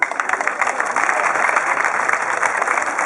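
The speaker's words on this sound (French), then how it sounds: "je vous prie de célébrer vraiment avec encore des applaudissements le donateur" An indoor crowd claps for a donor at a town hall ceremony handing over medical equipment, a dense, loud patter of hands that is steady and continuous from start to finish.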